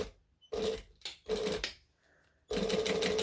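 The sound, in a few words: sewing machine top stitching a pocket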